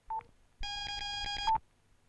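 A telephone number is being keyed in: a short beep, then a longer steady dial tone, then another brief beep, all heard close up and quiet with no talking.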